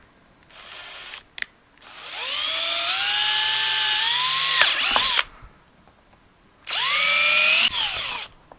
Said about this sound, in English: make sure my drill is straight up and down, and then I'm going to work my way down through the second piece of pipe